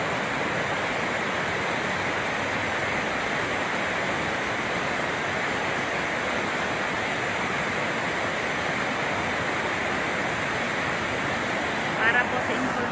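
Water rushes out of the open spillways of Magat Dam in a loud, steady roar of broadband noise that stays constant and unbroken for the whole stretch.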